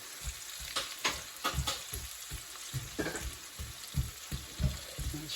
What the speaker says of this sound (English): I just want to soften this onion a little bit.